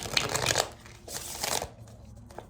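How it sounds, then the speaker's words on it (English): Two bursts of a tarot card deck being shuffled, crisp riffling rattles close up, separated by a brief pause, with quieter handling sounds trailing off at the end. "I'm going to do a couple more shuffles"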